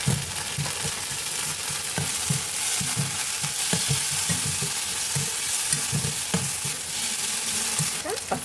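Ginger garlic paste fries with mint and cumin in an oiled pan, giving a continuous sizzle broken by repeated scraping strokes as it is stirred, with no voices.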